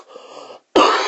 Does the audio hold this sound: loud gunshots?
no